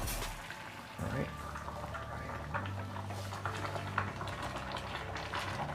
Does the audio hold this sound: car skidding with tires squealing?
no